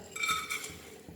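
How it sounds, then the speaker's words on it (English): Cashew nuts go into ghee in a pan, with a brief soft clink of a spoon against metal and a faint stirring scrape, heard quietly and close. "So I will add this cashew nuts and roast it over here."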